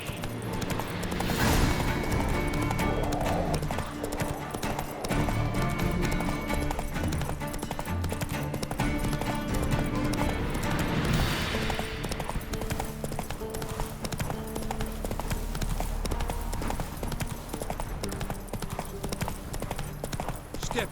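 Hooves of a galloping horse in The Witcher 3 beat a steady, loud clip-clop rhythm throughout, with a brief voice near the start.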